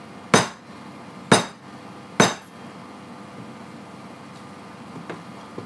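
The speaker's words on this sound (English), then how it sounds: "Bash the chicken." Three sharp, close blows of a meat mallet flattening chicken in a kitchen, evenly spaced about a second apart, followed by quiet room tone with faint small clinks.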